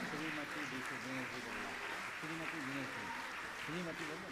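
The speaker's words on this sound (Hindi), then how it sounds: "लगातार आपकी करतल ध्वनि चलना चाहिए जब तक ऐसे व्यक्तित्व का सम्मान यहां पर चल रहा है" An audience at an honouring ceremony for a Jain monk keeps up continuous applause, faint and distant, while pitched voices rise above it.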